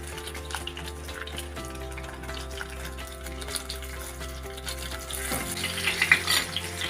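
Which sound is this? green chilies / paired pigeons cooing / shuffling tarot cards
green chilies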